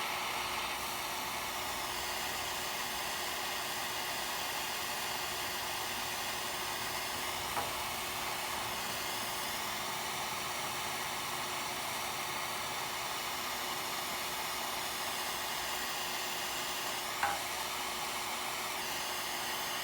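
A heat gun blowing steadily while melting repair material dabbed onto a hole in a radiator, a constant loud airy roar with a couple of faint clicks.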